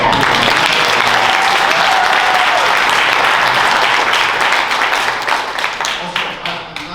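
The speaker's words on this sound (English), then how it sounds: "can we give Aiden one more big round of applause?" A comedy club audience breaks into loud, dense applause that holds steady for several seconds, then thins out into scattered claps as it fades toward the end.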